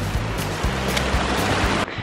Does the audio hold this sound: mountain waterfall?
yes